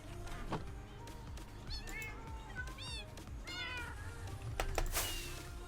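Several cat meows from Minecraft gameplay, rising and falling mews repeated over a few seconds against a low steady background hum.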